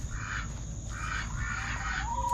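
Ducks quack in short bursts, three or four calls over a steady low outdoor rumble, fairly close but not especially loud.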